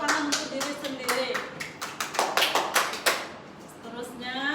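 Students in a classroom clapping for themselves during a Malay language lesson, a small group giving scattered, uneven hand claps close by, with a voice and light talk underneath.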